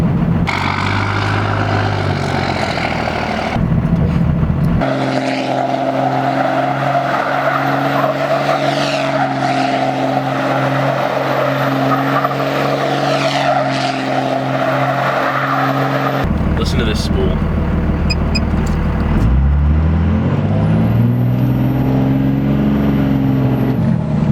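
A second-generation Cummins diesel truck on a stock turbo with stage 2 tuning roars loudly with sustained drone, then a rising turbo whistle and high whine build near the end, while someone talks over parts of it.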